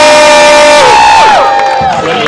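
A New Orleans street theater crowd cheers and yells loudly on cue, a short sustained burst of overlapping voices with wavering shouts and whoops.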